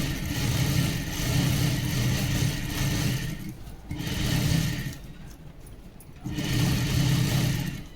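An electric sewing machine runs close up, double-stitching the seam of a princess-cut blouse in three long, steady whirring bursts separated by short pauses.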